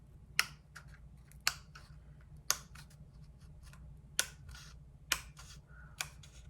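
Scissors snipping paper while cutting out a tiger's legs along a marked upside-down U: six crisp, separate snips at roughly one-second intervals, close and clear against a quiet low hum, with no talking.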